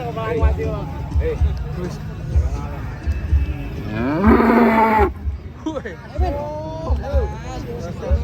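A cow lets out a long, loud moo amid a murmur of people talking and other cattle sounds nearby, at a cattle weighing during a cattle contest in Banyuwangi.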